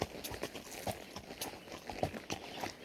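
A horse walks along a dirt trail in a meadow in Cuyamaca, its hooves clip-clopping in a steady, soft rhythm close by with no talking.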